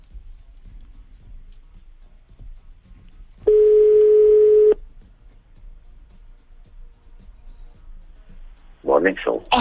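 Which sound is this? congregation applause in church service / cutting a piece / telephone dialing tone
telephone dialing tone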